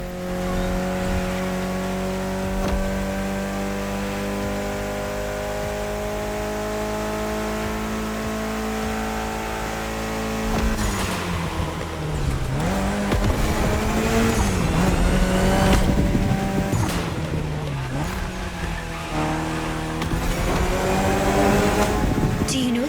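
Mitsubishi Evo X engine in The Crew Motorfest racing game, a steady high-revving drone that shifts into rising and falling revs with tire squeal and passing car noise, loud and continuous with occasional voice.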